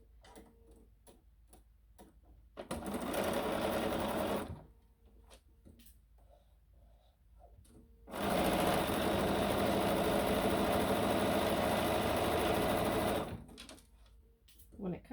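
A sewing machine stitches a quarter-inch quilt seam in two sustained runs of rapid, even ticking, the second longer, with soft handling sounds and quiet talk between them.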